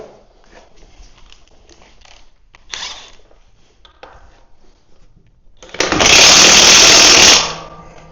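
A power impact wrench tightens a fitting on a trailer axle with a loud, close burst of rattling hammering that lasts about a second and a half. Quieter shop clatter comes before it.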